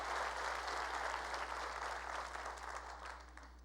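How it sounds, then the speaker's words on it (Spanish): A church congregation applauds loudly and continuously, a dense wash of many hands clapping over a low steady hum that tapers slightly at the end. "Dale fuerte ese aplauso al Rey"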